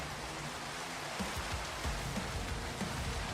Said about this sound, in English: How long do you think it's going to rain for?